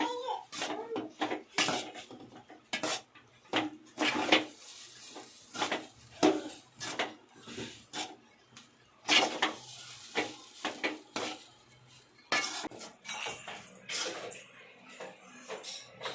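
Egg rice being stirred and mixed in a metal pan, with repeated sharp scrapes and clinks of a spoon against the pan, close and fairly loud, over a faint sizzle, in irregular bursts.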